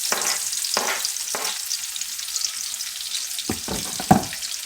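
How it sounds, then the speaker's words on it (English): Onions caramelize in bacon fat in a pan for smothered pork chops, giving a continuous soft sizzle. Several short, close scraping strokes of stirring break into it, with no talk. "I don't want the onions to burn necessarily. I just want them to get nice and caramelized"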